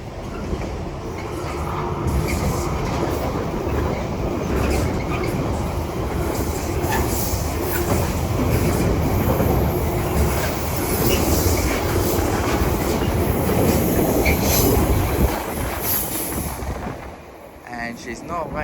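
A Class 66 Freightliner heavy freight train from Felixstowe North to Lawley Street rumbles loudly through Chelmsford station on the Great Eastern Main Line, a continuous roar of wagons and wheels under talk.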